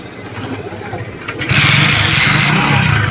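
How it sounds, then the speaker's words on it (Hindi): A Hero HF Deluxe BS6 motorcycle kick-started after its self-starter fails on low voltage: a short scuffing kick, then the engine catches and settles into a loud, steady close-up idle. "देखिए चलो मैं किक के जरिए से स्टार्ट करता हूँ।"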